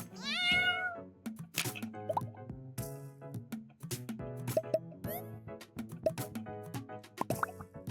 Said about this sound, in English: I'm not really sure what this does aside from meow at you.